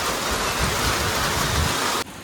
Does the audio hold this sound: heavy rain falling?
yes